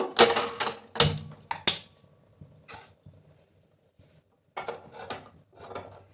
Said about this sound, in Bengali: এদিকে আমি আর একটা প্যান এদিকে বসে দেব